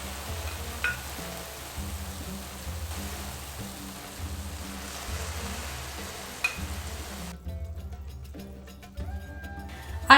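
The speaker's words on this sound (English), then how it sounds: "I increased the heat to boil back quickly and then pour it to my hot baklava" Hot syrup poured over freshly baked hot baklava, giving a steady soft sizzle and hiss that runs for several seconds at low level before cutting off.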